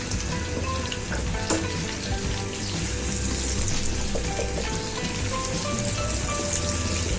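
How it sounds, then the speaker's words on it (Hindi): Chopped onions fry in oil over a medium flame, giving a dense, even crackle and spatter that holds steady throughout without any talking. "मीडियम फ्लेम पे हम इस प्याज को अच्छे से फ्राई करेंगे।"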